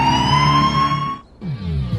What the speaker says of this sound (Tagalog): adda man ang simangpat nga ambulansya